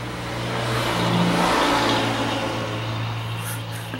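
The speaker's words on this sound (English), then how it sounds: "What would it be without traffic?" A car accelerates past on a nearby road, a broad swelling engine whir and tyre rush that peaks mid-way then fades, with a steady low hum underneath and no talk.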